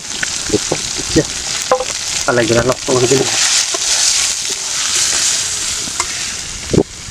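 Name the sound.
fish frying in pan with garlic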